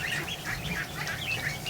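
Ducks quacking in a pen at a hatchery, a busy overlapping chorus of nasal calls that runs steadily and fairly close throughout, with no talking.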